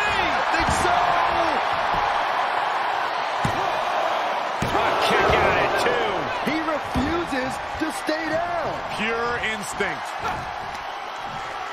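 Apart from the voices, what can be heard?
raucous arena crowd in WWE 2K23 video game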